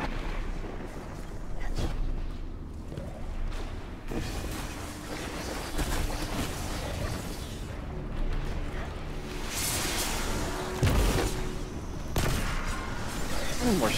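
Gunfire and explosive blasts from the Destiny 2 video game fill the track continuously, with dense rumbling bursts and booming hits, while a player talks over the combat.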